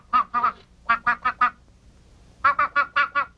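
A goose from a 1960 Mazzaropi comedy film scene honks in two rapid bursts of nasal, quacking calls, four or five each, with a brief pause between, loud and close with no talk.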